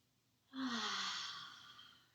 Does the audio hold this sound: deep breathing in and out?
yes